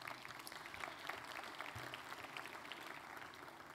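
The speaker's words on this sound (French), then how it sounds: "On peut l'applaudir." Audience applause at a customer-relations conference fills the room with steady, dense clapping that holds at an even level throughout, with no voices over it.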